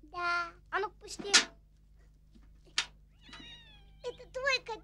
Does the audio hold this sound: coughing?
no